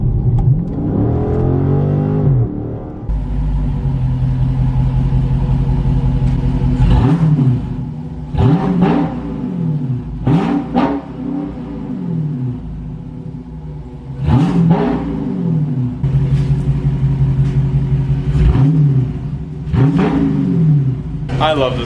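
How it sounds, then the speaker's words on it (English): A car engine idles with a deep rumble and revs up repeatedly in sharp bursts that fall back to idle, loud and close, with a person talking between and over the revs. "I love this car. I love the way this thing sounds."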